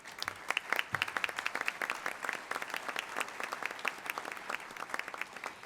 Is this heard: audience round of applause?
yes